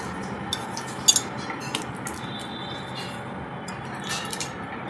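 Prawns go into a simmering Konkani-style saar in a pot on the stove and get stirred, giving a few sharp metallic clinks of a spoon against the pot over a quiet background hiss.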